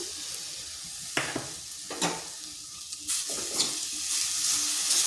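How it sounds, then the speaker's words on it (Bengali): Palm jaggery goes into a semolina mixture cooking in a pan, giving close sizzling and frying with scraping stirs and soft thuds as it is added, and no talking. "এরপর দিয়ে দিচ্ছি গুড়।"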